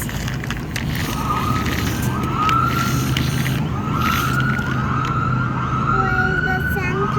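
A police car siren passes on a Canadian street during an evening walk, its rising and falling wails fairly distant and steady over a constant wash of traffic and outdoor noise.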